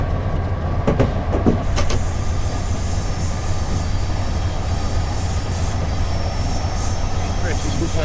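A P32 locomotive train running in Train Simulator 2016 between Grand Central and Stamford, a constant rumbling roll with a few brief sharp clanks early on and a faint high wheel squeal, close and steady.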